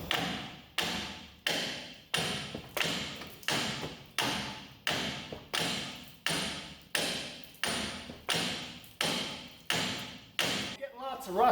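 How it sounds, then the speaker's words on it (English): Two hammers strike a rusty steering knuckle on a 2005 Chevy Silverado 1500HD to free a stuck ball joint, giving a steady series of about fourteen loud, ringing metal blows at a regular rhythm, close up with no talking. "So we'll try the 2-hammer method."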